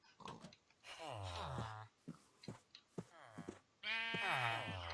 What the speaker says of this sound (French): J'ai 2 moutons là.